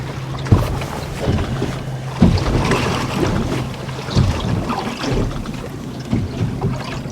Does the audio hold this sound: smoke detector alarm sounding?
no